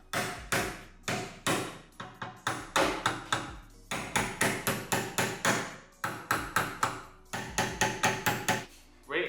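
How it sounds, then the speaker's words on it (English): Repeated hammer blows on a metal car fuse/relay panel corner ring out in quick bursts of several strikes, separated by short pauses, close and sharp with no voices. "I'm just gonna try to hammer this out."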